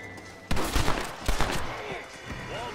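Two loud, sharp gunshots ring out close together in the Red Dead Redemption video game on Xbox One X, each with a short echoing tail, followed by quieter ambient game sound.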